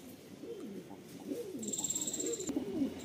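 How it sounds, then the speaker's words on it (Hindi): Soft, low coos of a Rampuri pigeon repeat in a steady rolling rhythm, close by, with a faint high electronic tone partway through. "ये देखो दोस्तों, ये पहला कबूतर है।"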